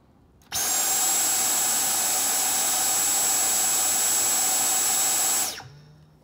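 A Dyson V7 cordless vacuum running on its lowest, roughly 16-air-watt setting gives a steady, loud whine with a high tonal note. It starts abruptly, holds constant for about five seconds, then winds down and cuts off.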